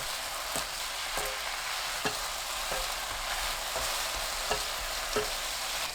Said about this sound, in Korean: 조청 1큰술, 진간장 3큰술 넣고 중약불로 1분 볶아주세요